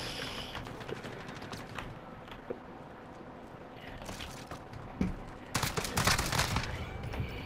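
Video game gunfire: sparse clicks and shots at first, then dense rapid bursts of automatic fire swell near the end, fairly faint overall.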